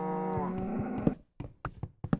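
A cow in the Minecraft video game gives a single clear low moo, followed by a few soft knocking hits.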